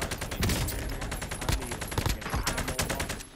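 Rapid bursts of video game gunfire crackle from several directions at once, loud and close, with shots stacking in quick irregular volleys.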